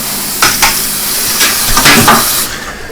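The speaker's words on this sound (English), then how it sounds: "And we're stirring our Zote soap." Zote laundry soap is stirred in a pot, with a close, loud steady hiss and a few clanks and scrapes of a utensil against the pot, ending abruptly.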